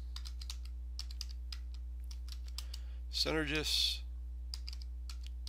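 Typing on a computer keyboard, with light, irregular key clicks before and after a short spoken word over a steady electrical hum.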